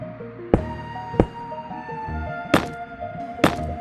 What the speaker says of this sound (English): Regular bricks should make the new sound that Nether bricks make.